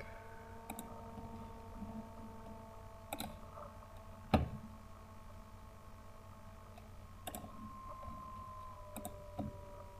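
Faint, sparse computer keyboard clicks, including the Enter key, sound as isolated taps a second or more apart, with one sharper press standing out against a quiet electronic hum.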